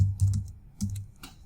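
A short burst of typing on a computer keyboard: a few quick clusters of close, soft key clicks separated by tiny gaps, quiet and with no speech.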